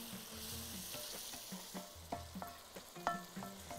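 Baby shark pieces seasoned with black pepper and salt being stirred in a pan, repeated light clinks and scrapes of a utensil over a soft frying hiss, close but quiet, without speech.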